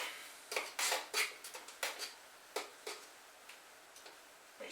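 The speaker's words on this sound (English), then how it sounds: "So I'm going to stir that up." Instant emergency food being stirred in a container, a quiet run of irregular clicking and scraping taps from the utensil against the sides, spaced out over a few seconds with no talking.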